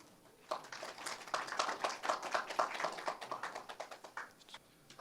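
Audience clapping at a science and technology policy forum in Korea, starting abruptly and swelling into dense, fairly quiet applause from a modest crowd before tapering off.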